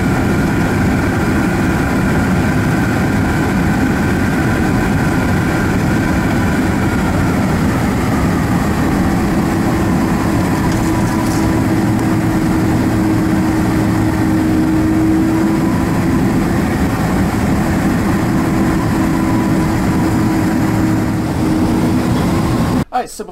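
Delta Boeing 767-300ER jet engines taxiing in the Prepar3D flight simulator hold a steady, loud, continuous whine and low rumble that never lets up.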